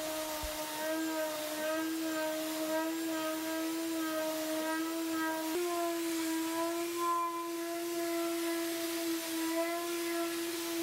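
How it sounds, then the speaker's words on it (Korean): Power sanding of a block tray box, a faint, steady motor whine with a hissing sanding texture that continues without a break. "블록 트레이 박스 위주로 전체적으로 샌딩 작업을 진행합니다."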